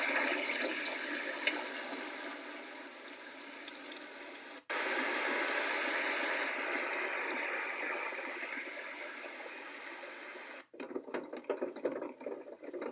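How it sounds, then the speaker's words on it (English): A sound machine plays a continuous water setting, a steady rushing hiss like flowing water that cuts out briefly, resumes, then changes to a patchier texture near the end. "Water."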